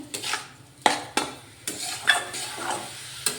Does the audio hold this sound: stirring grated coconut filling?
yes